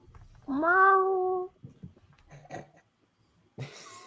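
A cat meows downstairs in one long, drawn-out yowl, followed by a few faint thumps and rustles in an otherwise quiet room.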